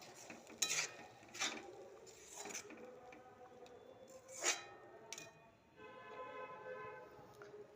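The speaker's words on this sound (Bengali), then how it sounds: "এটাকে একটু নাড়াচাড়া করে দিই।" Food being stirred in a cooking pot, heard as a few scraping and clinking strokes of a utensil against the metal, with quiet gaps between them and steady kitchen background.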